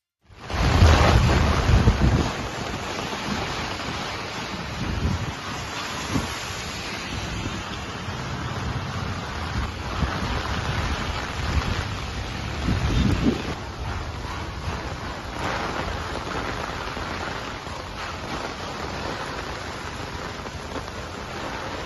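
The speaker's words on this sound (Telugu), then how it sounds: "ఈలోపే జోరు వాన కురుస్తోంది." A heavy downpour over Hyderabad, Telangana, makes a steady, dense hiss that rises in a louder burst at the start and then holds an even roar, with no voices.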